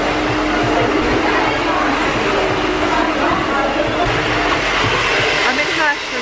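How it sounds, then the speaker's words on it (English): Hair dryer blowing during a salon blow-dry, a loud steady whooshing roar held close throughout, with faint background voices. "I'm in Hersheyson's having my blow dry."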